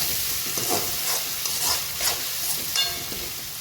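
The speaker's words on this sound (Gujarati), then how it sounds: "હવે આને આપણે હલાવી દઈશું અને 1-2 મિનિટ માટે થવા દઈશું" Chopped tomatoes sizzle steadily in a pan while a utensil scrapes and stirs through them in a few soft, uneven strokes.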